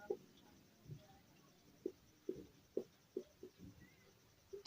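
Chalk or marker writing on a board in a maths class, sounding as sparse, faint taps and short strokes spaced irregularly against a quiet room, without speech.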